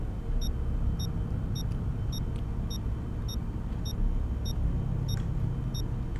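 In S.T.A.L.K.E.R. GAMMA, an anomaly detector beeps quickly and evenly, about two short high beeps per second, over a constant low rumbling ambience.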